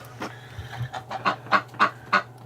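Ducks in a winter barn give a run of nasal, honking calls, about eight in a loose rhythm, fairly close and clear with no talk over them.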